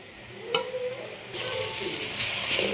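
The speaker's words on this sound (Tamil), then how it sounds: "இந்த கீரையும் வாழைப்பூவும் ஒன்று சேர்ந்து இவருங்க நல்லா சூப்பராக வதங்கி வந்துட்டு" Banana flower and drumstick leaves sizzle softly in a pan while being stir-fried, with a light clink of a spoon early on and a hiss that swells and holds steady toward the end.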